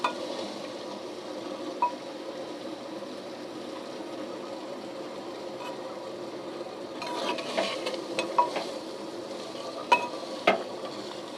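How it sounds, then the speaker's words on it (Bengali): A spoon stirs handi chicken in a pot with soft scraping and occasional light clinks against the metal, gentle and close, over a low steady background. "এটা হালকা হাতে নাড়াচাড়া করতে হবে হাঁড়ির মধ্যে।"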